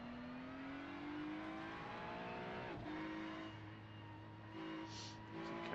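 A Ferrari GT3 car in a sim racing game accelerates hard down a straight. Its engine note climbs steadily, briefly drops at each upshift, then rises again, loud and continuous with no voices.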